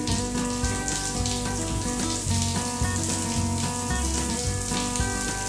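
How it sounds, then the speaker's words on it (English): A shower's continuous spray splashes over a golden retriever at bath time, a steady close hiss running beneath background music. "Shower is very pleasant."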